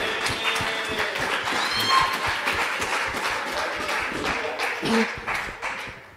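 A church congregation clapping during a sermon, a loose burst of applause with scattered hand claps and murmured voices, moderately loud and gradually thinning out.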